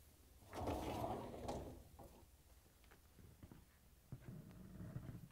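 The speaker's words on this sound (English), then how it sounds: "simply open the door and pull out and remove the old dish rack out" The lower dish rack of an old GE dishwasher is pulled out and lifted free, giving a close plastic-and-metal rolling rumble and scrape followed by softer knocks and a second slide, all fairly quiet.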